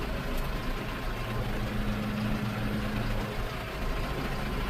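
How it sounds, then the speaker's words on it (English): A steady, low engine rumble with a broad wash of noise, constant and close, from a 2020 McCormick X6.55 tractor driving forward without change in pace. "push the shuttle shift forward, there she goes"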